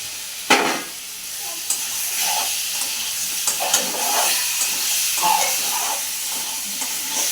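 Potatoes and eggs fry together in a pan with a continuous moderate sizzle, broken by a few stirring scrapes and clinks close by.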